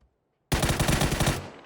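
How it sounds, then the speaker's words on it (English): Rapid automatic gunfire in the PUBG battle royale game during an esports match, a dense burst of repeated shots lasting about a second, loud and close with a short tail. "Oh, great shot there from Kandam on towards Spartacus"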